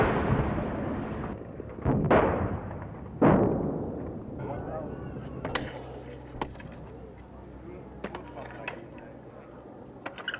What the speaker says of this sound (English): Trapped inside Kontum, the civilian refugees never escape the sound of battle.